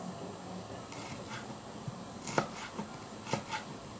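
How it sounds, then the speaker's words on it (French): A knife slices ginger into very fine, thin strips, giving a few soft, quick chopping taps on a board, with sharper cuts near the middle and end over a quiet room hum. "il faut mincer aussi les gingembre très fines en lamelles"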